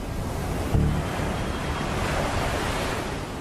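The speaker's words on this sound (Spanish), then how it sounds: "Vimos como el agua giraba y giraba sin cesar, haciendo un ruido atronador al romper en las rocas" Rushing water churns in a whirlpool and breaks against rocks in a sea strait, a loud, steady roar of surf with a brief heavier surge near the start, no voices.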